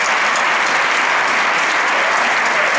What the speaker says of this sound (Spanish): compuesta por nuestro amigo Michel Iguaz, para el cual pido un fuerte aplauso, que está aquí, en primera fila.